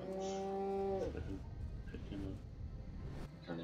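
A cow in the video game Destroy All Humans! lets out a loud drawn-out moo, then a shorter one near the end, with game noise and a voice talking beneath.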